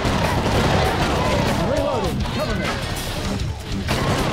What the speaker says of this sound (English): Heads explode!